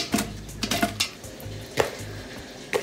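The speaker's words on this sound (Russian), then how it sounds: "И сами вишни сюда. Высыпаем." Cherries are tipped into a pot with scattered clinks and knocks of fruit and metal, a few sharp taps, and a low rumble beneath.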